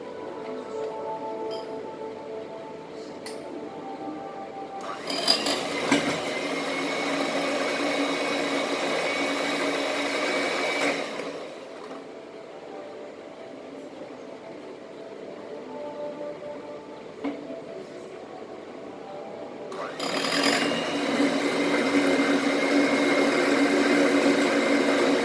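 Biscuits are crushed for a Dairy Milk chocolate brownie with a motorized grinder or blender, running in two loud whirring bursts with a quieter rattling pause between, no talk.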